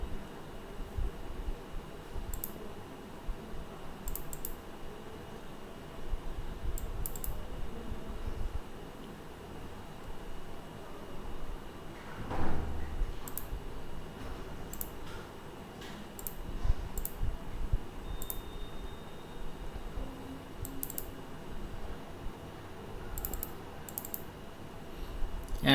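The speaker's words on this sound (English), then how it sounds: "I'll click on the plus button and click on import from computer" Computer mouse clicks during file import in a web-based CFD application, sparse crisp ticks scattered singly and in quick pairs over a low steady hiss, close and quiet, with no voice.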